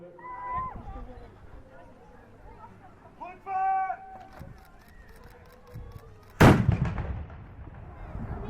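A medieval double-barrel cannon on a single carriage, with movable breech chambers, fires once at a château show at Sully, a sudden loud blast with a trailing rumble after scattered crowd voices and chatter.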